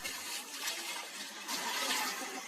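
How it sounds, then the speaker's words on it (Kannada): Water showering onto elephants in their enclosure at Mysuru zoo, a steady broadband hiss of spray with brief surges, fairly faint and continuous, with no talking. "ಸ್ವಂತ ಶವರ್ ಕೂಡ ಇದೆ ಇವುಗಳಿಗೆ"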